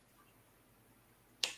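A single sharp finger snap cracks out near the end after quiet room tone, crisp and close, with a brief decay.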